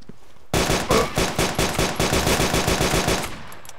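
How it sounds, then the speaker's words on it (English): Rapid automatic gunfire from a firefight in the military video game Arma 2, a dense, loud burst of repeated shots that carries on for several seconds before cutting off abruptly. "Gunfire coming from up here."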